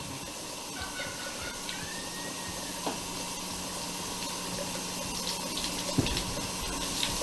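Hot water runs steadily from a tap into a sink, a constant hiss with a faint squealing whine over it and a few small clunks, at moderate loudness with no talking.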